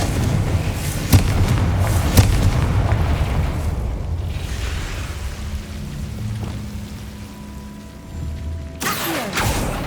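In Hogwarts Legacy, a Confringo spell goes off with sharp booming blasts, followed by a rumbling, crackling burst that fades. A final loud hit lands near the end, and everything is close and forceful.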